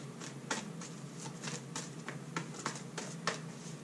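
Oracle cards being shuffled by hand during a reading, a steady patter of soft riffling slaps and flicks that stays close and fairly quiet for several seconds, with no voice over it.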